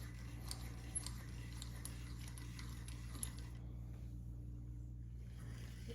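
A Timberline chainsaw sharpener is tightened as its file advances, giving faint metallic clicks and light scraping over a steady low hum, close and quiet with no talk.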